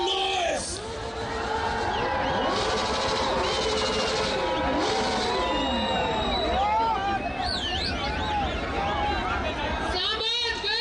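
A large crowd at an Independence Day celebration in Islamabad shouts, whistles and cheers in a dense, loud roar, with a voice urging it on over amplified speech and music.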